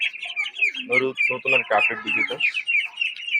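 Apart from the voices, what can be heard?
21-day-old ducklings chirping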